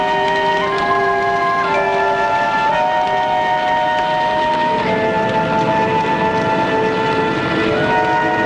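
A troop train with a small engine and old streetcar-like coaches rolling along, heard as loud steady rail rumble with sustained whistle-like tones shifting in pitch, without speech.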